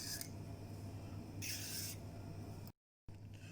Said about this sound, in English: I'm going to grate the carrot the same way I grated the zucchini